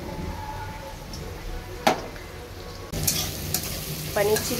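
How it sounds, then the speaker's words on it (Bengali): Chopped ginger, green chili and garlic frying in refined oil in a wok, a continuous soft sizzle with sharp stirring scrapes near two and three seconds, the sizzle growing louder halfway through. "এখানে কড়াই আর একটু রিফাইন তেল দিয়ে ওর মধ্যে আদা, লঙ্কা, রসুন কুচি দিয়ে একটু কড়া করে ভেজেছি"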